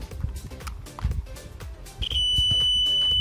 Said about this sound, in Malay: Okey, buzzer untuk ujian keterusan.